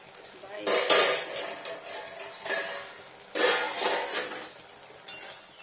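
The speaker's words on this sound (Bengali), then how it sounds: "ঢাকাটা খুলে নিই এবার।" A lid is lifted off a pan of potol (pointed gourd) curry, making a couple of loud, close metallic clanks and rattles that ring briefly before fading, with some quiet clinking between them.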